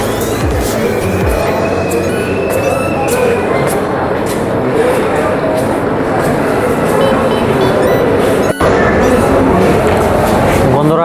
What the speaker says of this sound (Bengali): এই ট্রেনটি মূলত এয়ারপোর্ট স্টেশনে 5 মিনিটের মতো যাত্রা বিরতি দিবে, তারপরেই আবার কক্সবাজার উদ্দেশ্যে ছেড়ে দিবে।